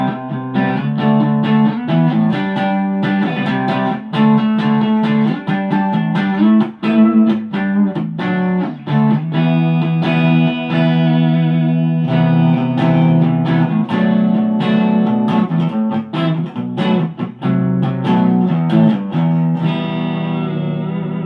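A 1986 Charvel Model 4 electric guitar through a clean channel plays a busy run of picked notes and chords, bright and ringing with a slight effect sheen, loud and continuous without any voice.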